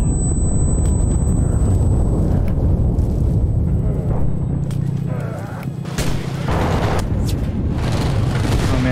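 A booming explosion in the war video game Enlisted, set in the fight for Moscow, rumbling loudly amid ongoing battle noise with a steady high tone, while someone talks throughout.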